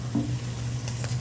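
Onions sizzle in a hot pan, a steady soft frying hiss with a light stir and clatter near the start, close by and alone.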